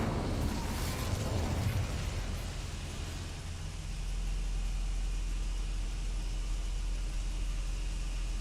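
In Hogwarts Legacy an Incendio fire spell bursts out with a loud rushing whoosh and roar, then settles into a steady low rumble of flame.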